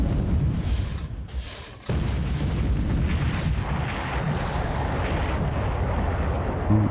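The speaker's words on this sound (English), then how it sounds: "Yamashiro shooting at Princess Royal as well." Heavy naval gunfire from the battleship Yamashiro firing on Princess Royal in a naval warfare video game: a dense, continuous roar of loud booming salvos that pauses briefly, then resumes and rumbles on without talk.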